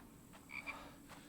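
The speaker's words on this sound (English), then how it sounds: "The frogs always show up." Frogs croak in short faint chirping bursts over quiet low background ambience in the survival video game The Infected, with no voices.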